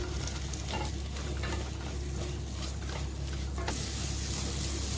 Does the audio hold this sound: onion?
yes